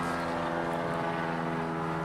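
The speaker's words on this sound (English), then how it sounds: "wait for the plane to go over" An airplane drones overhead in a steady, even engine hum with a tonal buzz, moderately loud and unbroken outdoors, with no voices.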